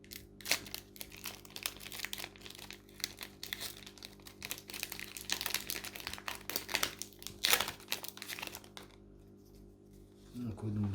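A Pokémon booster pack being torn and crinkled open by hand, with close crisp foil rustling and tearing in uneven bursts while a person talks over it.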